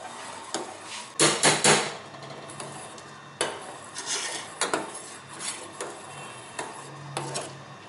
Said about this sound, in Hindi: सेवियाँ जो हैं वो मैं इसमें अभी ऐड कर रही हूँ